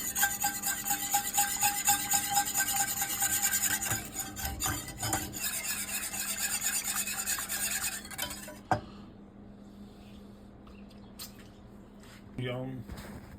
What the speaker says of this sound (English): You wanna keep on stirring. Always stir and scrape the bottom.